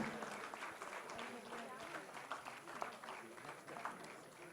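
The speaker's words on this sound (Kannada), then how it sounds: "ನಾವು ಕೂಡ ಮತ್ತಷ್ಟು ಮುಗದಷ್ಟು ಚಪ್ಪಾಳೆಗಳನ್ನು ಇತ್ತು ಗೌರವಿಸೋಣ" Applause from an audience at a journalism award ceremony presented by the Karnataka chief minister: dense, steady clapping lasting several seconds with a voice speaking over it.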